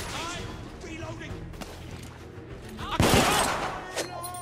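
Gunfire in the video game The Order: 1886 bursts in rapid volleys, with a heavy close blast at about three seconds, under shouted voices and dense battle noise.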